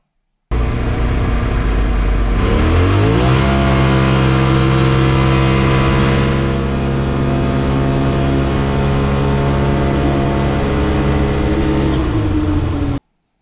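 A 2021 Polaris RZR Pro XP fitted with an Aftermarket Assassins S3 clutch kit and 32-inch XTR 370 tires revs loud and close: the engine climbs sharply in pitch, holds a high steady drone for several seconds, then drops and cuts off.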